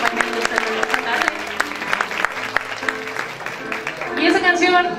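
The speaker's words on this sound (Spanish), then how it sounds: "un aplauso fuerte para todas las mujeres legendarias que nos están acompañando esta tarde" Loud audience applause at a Ford event honoring legendary women, many hands clapping steadily with some crowd voices and a brief cheer or whistle toward the end.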